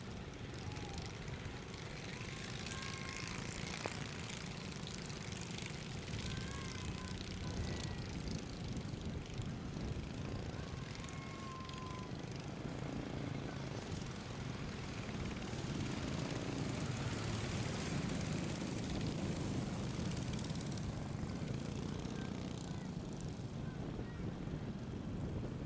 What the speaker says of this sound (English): 9 horsepower NASCAR sprint class on track right now.